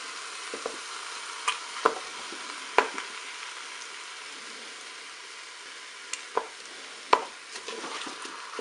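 Canned peeled tomatoes being cut up in a cooking pot: sparse, irregular knocks and scrapes of a utensil against the pot, a handful of sharp taps spaced over quiet background.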